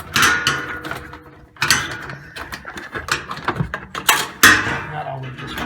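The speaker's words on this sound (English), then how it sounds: "Then you'll be able to remove these two clips." A screwdriver pries plastic retaining clips loose on a Whirlpool washer that won't spin. Close clicks and snaps come in several separate bursts, with scraping and rattling of parts between them.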